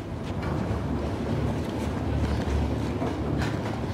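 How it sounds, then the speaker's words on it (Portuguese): Locomotive train running in Uncharted: The Lost Legacy, a heavy continuous low rumble with faint rhythmic clatter and wind-like rushing, loud and steady. "Aquilo é mesmo a locomotiva."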